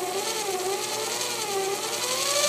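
A G0704 milling machine spindle spins on a belt drive conversion powered by a treadmill motor, giving a smooth, steady whir with a faint shifting tone. It runs continuously and fairly close, with no talking.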